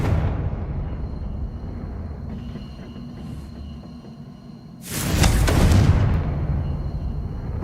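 A Confringo blasting spell erupts in Hogwarts Legacy, a loud, broad burst of explosive noise that swells suddenly after a quieter stretch and lingers as a rumbling roar to the end.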